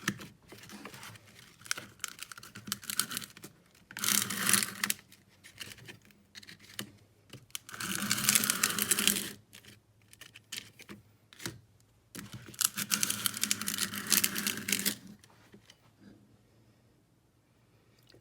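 A silver pendant piece is rubbed back and forth across sandpaper in bursts of dry, gritty scraping, with quiet pauses between the strokes and no talking.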